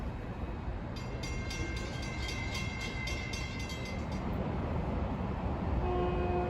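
An LIRR train passing through Mineola station during the evening rush, a steady loud rumble of rail cars with brief bright squeals or horn tones rising over it, rolling continuously.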